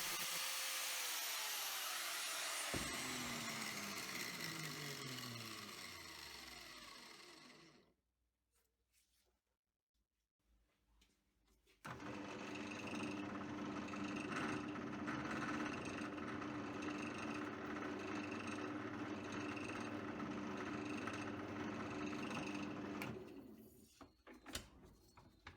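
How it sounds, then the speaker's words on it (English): A drill bores into a round metal bar with a steady mechanical whir, then falls silent and resumes loud and continuous for about ten seconds before stopping. "I'm going to drill right through the bar"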